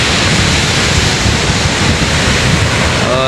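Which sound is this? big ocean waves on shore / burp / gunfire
big ocean waves on shore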